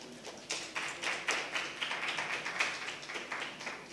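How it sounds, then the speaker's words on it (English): A small debate-competition audience claps for guests in a steady, moderate round of applause that runs throughout with no voices. "A round of applause, please, for all those very special persons."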